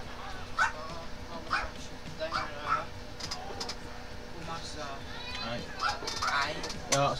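A dog barks, yips and whimpers in short bursts, mixed with people talking over a steady background hum.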